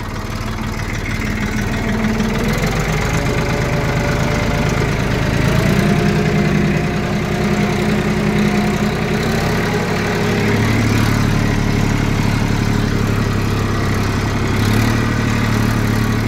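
A tractor engine runs at about 1800 RPM while driving a tiller in a field: a loud, steady, close drone that holds an even pitch throughout, with no talk.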